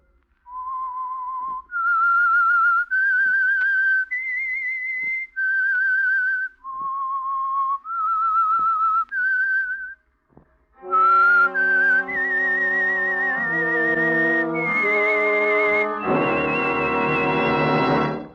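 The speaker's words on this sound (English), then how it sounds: "That whistle is your signal for the Signal Oil program" A clear, close whistled melody of sustained notes rises and falls, the opening signal of a 1948 radio drama, followed by a brighter, fuller tune with rich instrumental tones.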